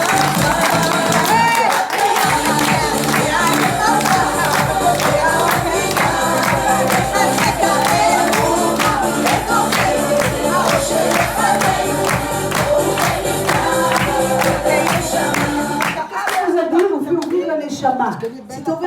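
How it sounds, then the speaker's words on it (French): Applause from a crowd at a women's prayer gathering in Netanya: steady, dense rhythmic clapping that carries on for about fifteen seconds with cheering and voices mixed in, then breaks off into scattered talk. "sans applaudissements, ça ne marche pas"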